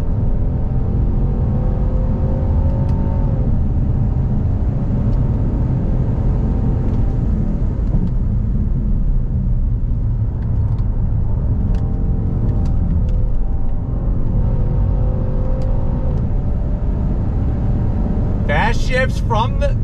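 A 2022 Genesis GV70 sport SUV accelerates hard on throttle with paddle shifting, its engine a steady loud rumbling drone with rising and falling tones, heard from inside the cabin.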